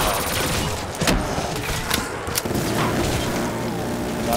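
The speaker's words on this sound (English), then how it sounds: "I'm gonna keep on shooting zombies from the well." Rapid gunfire from a zombie-shooting video game rattles loudly and continuously under a dense wash of game noise, close and unbroken with no pauses.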